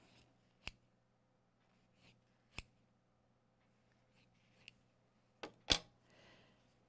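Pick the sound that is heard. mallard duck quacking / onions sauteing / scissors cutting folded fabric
scissors cutting folded fabric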